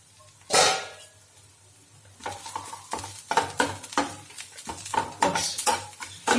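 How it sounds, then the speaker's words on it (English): A masala egg omelette cooks in a pan: a faint sizzle sits under repeated clinks and scrapes of a utensil stirring against the pan, with one louder clatter early on. "Let's check out how far we are done with the frying."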